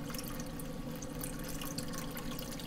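A peach Bellini cocktail is poured into a glass after shaking, giving a steady, close splashing trickle of liquid that runs without pause, with no talking.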